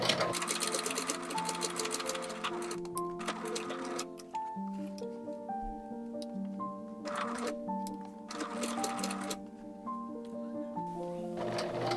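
A sewing machine runs steadily for the full stretch, stitching the side seams of small doll overalls with a quarter-inch seam allowance, a close, continuous whir with rhythmic ticking.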